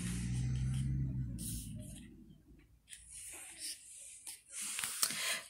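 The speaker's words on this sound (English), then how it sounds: "Goat snored a lot." A snoring goat from a read-aloud storybook: a low, rumbling breath for about two seconds, then a run of breathy, wheezing snorts and sniffs, moderately loud and with no talk over it.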